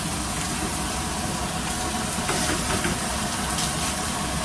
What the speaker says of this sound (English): Now put your steak down, get a sear on one side.